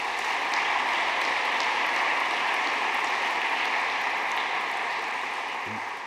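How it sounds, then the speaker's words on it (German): Sustained applause from an audience at a university academic ceremony, a dense steady clatter of many hands clapping at an even level for several seconds before easing slightly at the end. "Einen kräftigen Applaus."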